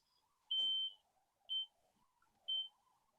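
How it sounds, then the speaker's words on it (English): A smoke alarm sounds three distinct high-pitched electronic beeps, the first longer and the next two short, evenly spaced about a second apart, clear and alone over faint background hum. "This is a 3-pulse beep, and it repeats over and over."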